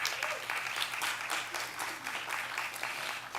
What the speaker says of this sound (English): give another warm round of applause for Dr. Thorpe